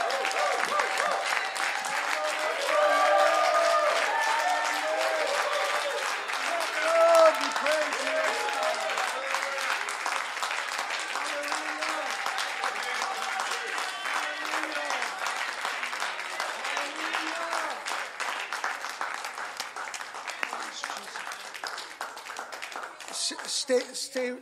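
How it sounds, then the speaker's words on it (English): Church congregation clapping together during a worship service, a sustained, dense patter of many hands lasting the whole stretch, with voices faintly heard underneath. "One more clap offering."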